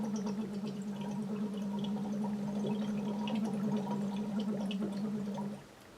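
Soft bubbling burbles over a steady low voiced tone as air is blown through a tube into water during Lax Vox voice therapy, then fades out near the end.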